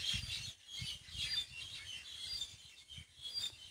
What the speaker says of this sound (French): Voilà, c'est la campagne, les oiseaux,